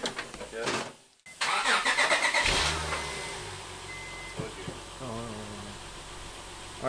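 A Honda Accord V6 cranks and fires up for its first start after an RV6 long-tube J-pipe install, catching after a brief silence and settling into a steady, fairly loud idle close by, with voices talking over it.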